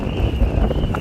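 Wind gusts buffet the microphone at a new Tesla V3 Supercharger station in Béziers, a continuous low, rough rumble with uneven surges and no clear voices.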